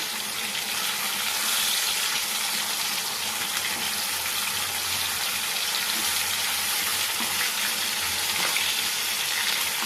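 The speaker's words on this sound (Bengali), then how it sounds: "মাছটা এক পিঠ ভালো করে ভাজা হয়ে গেছে। এখন মাছটাকে উল্টে নেব।" A pomfret fish fries in an oil-filled pan, giving a constant bright sizzling hiss that holds steady throughout, with no speech.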